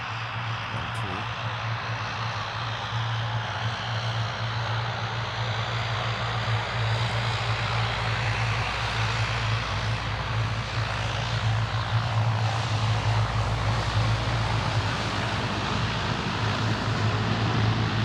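An aircraft engine roars loud and steady at MSP airport, a continuous propeller drone with a low throbbing hum that holds throughout beside the runway.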